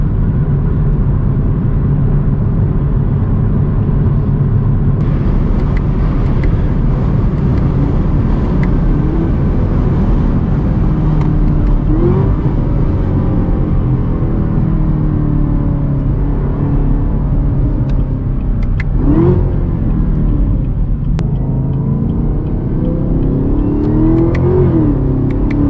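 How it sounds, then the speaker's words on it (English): Chevy Camaro ZL1 1LE engine in track mode on a city and highway drive, a loud continuous rumbling drone heard from inside the cabin, with revs rising and falling as it downshifts. "if we put it over into the track mode, you can, and this, or also the sport mode as well, you notice that it instantly downshifts."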